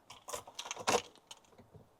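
Metallic key jangle and clicks as an ignition key slides into a Land Rover Defender's switch in a garage, a few quick close rattles over about two seconds.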